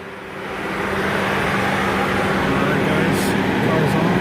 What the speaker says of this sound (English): Now we just gotta fire up the car.